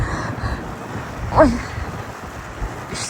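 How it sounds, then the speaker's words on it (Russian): Strong wind gusts through a snowstorm on a Moscow street, roaring steadily against the microphone with one louder gust midway, while a voice briefly exclaims. "Очень сильный ветер."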